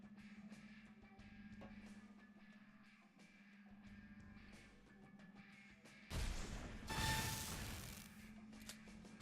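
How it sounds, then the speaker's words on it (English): Cluster bomb explosions in the free Loadout video game, quiet crackling small pops, then a sudden loud burst of several overlapping blasts near the end. "Does a mini electric explosion before and then explodes into multiple"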